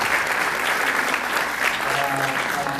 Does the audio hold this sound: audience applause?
yes